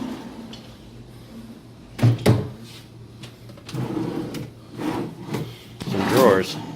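Drawers in an inexpensive hotel room sliding open and shut, several wooden thumps and rattling scrapes at irregular intervals, with a voice speaking in between.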